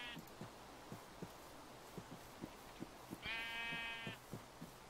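Sheep bleating in the Minecraft Better Than Wolves mod, a single drawn-out buzzy bleat near the end over quiet, soft rhythmic footstep thumps and a faint earlier call.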